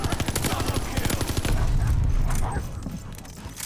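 Rapid automatic fire from the Vargo-S rifle in Call of Duty: Vanguard, loud dense bursts that run continuously and then trail off near the end.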